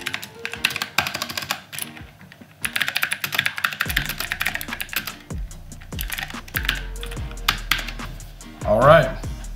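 Rapid typing on a mechanical keyboard with clicky blue switches, dense crisp clacks with a heavier space bar, while someone talks over the keystrokes.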